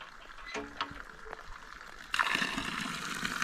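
Non-drinking water from an outdoor tap at a hiking shelter in the French Jura bursts on after a couple of quiet knocks and handling sounds, then runs as a steady, close, rushing gush until the end.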